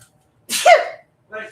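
One loud, close human sneeze with a forceful burst that trails off, followed by a short murmured voice, heard during a live acrylic stamp sale.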